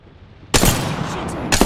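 Gunfire in the video game Apex Legends: a loud close burst of shots cutting in abruptly, then a second short burst, over a quiet background.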